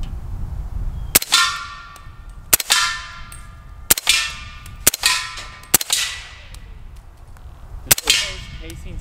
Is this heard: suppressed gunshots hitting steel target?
yes